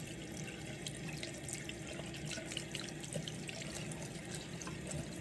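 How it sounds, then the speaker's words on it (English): Tap water runs steadily into a sink while makeup brushes are being washed, a continuous splashing hiss with small drips and gurgles, fairly close and with no talking. "Now I know it's probably not the best to keep the water running"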